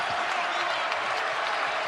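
Basketball arena crowd roaring steadily for Dayton in a home game against VCU, a dense, continuous wash of cheering and applause with no break.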